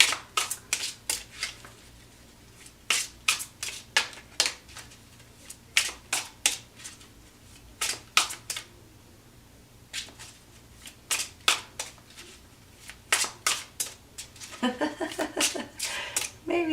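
Tarot cards shuffled in repeated quick riffles and snaps, bursts spaced irregularly and ending in a longer flurry, close and crisp, with someone talking.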